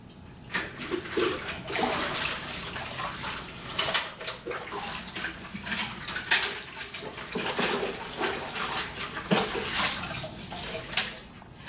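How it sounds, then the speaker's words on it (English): Tap water runs steadily into a sink while a pottery throwing bucket is rinsed, with splashing and irregular sloshing and clatter close by, and no talk. "Rinse the throwing bucket."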